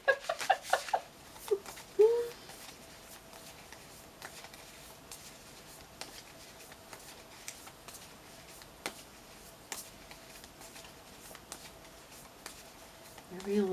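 Tarot cards being shuffled during a tarot reading, a soft run of quiet papery riffles and ticks sounding close to the listener, with a voice talking briefly at the start and again at the end.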